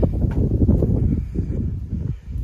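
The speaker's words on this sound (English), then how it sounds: "windy" Strong wind buffeting an outdoor microphone at the edge of a field by a caravan site, gusty low roaring that swells and dips unevenly.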